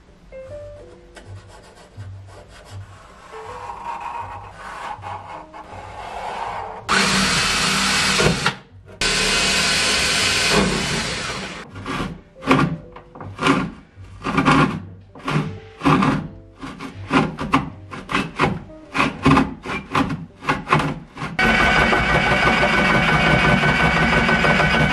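A section of a wooden shelf being sawn off by hand in a cramped spot gives rhythmic back-and-forth rasping strokes, close and steady, with a few stretches of continuous scraping noise.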